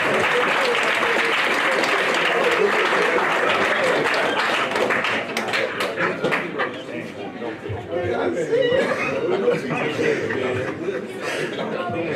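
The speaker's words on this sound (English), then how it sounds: "One more time, round of applause." A Hall of Fame ceremony crowd claps steadily, loud applause mixed with chuckles and chatter that thins out midway before picking up again.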